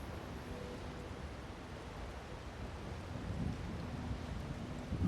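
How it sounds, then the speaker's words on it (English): Steady, soft rainfall in the Elder Scrolls Online video game forms a continuous faint hiss of ambient weather, slightly swelling toward the end, with no voices. "Unfortunately, it's raining right now."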